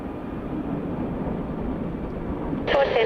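A jet airliner rolls for takeoff on runway 27 at Melbourne Airport in heavy rain, a broad distant roar building steadily, with a crackly radio transmission cutting in near the end.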